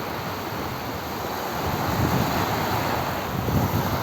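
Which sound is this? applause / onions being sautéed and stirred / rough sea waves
rough sea waves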